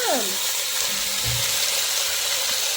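Chicken pieces go into a hot pot for Saudi-style kabsa and set off a steady hissing sizzle, with a brief clunk early on and a voice in the background.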